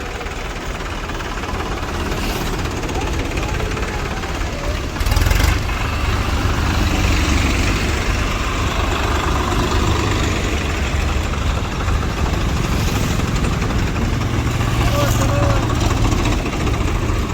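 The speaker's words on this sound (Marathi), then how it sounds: "हा ट्रॅक्टर मोर्चा आपण पाहू शकता" Several tractors, some pulling farm implements, run at a farmers' protest rally, their engines idling and rumbling loudly and steadily throughout, with a heavier low surge partway through and crowd noise mixed in.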